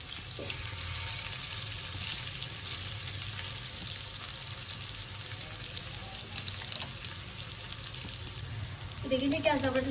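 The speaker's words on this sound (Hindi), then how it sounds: "देखिए क्या ज़बरदस्त यहाँ कबाब फ्राई हो रहे हैं, बल्कि ग्रिल हो रहे हैं" Seekh kebabs sizzle in hot oil on a preheated grill pan, giving a steady, crackling hiss with light clatter, and a brief burst of clinking near the end.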